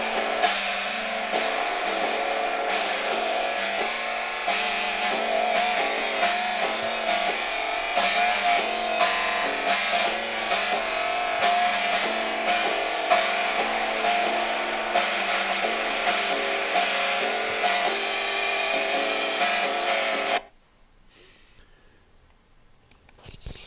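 A dense, busy musical track processed through an experimental reverb effect produces a thick, smeared wash with clicky transients. It plays loud and steady for about twenty seconds, then cuts abruptly to near silence.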